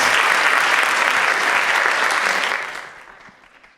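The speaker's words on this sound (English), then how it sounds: "let's give our panelists a big round of applause" Audience applause for the panelists at the 2022 Achieve Atlanta Scholar Night, a loud dense round of clapping from a large crowd that holds steady and then fades out over the last second.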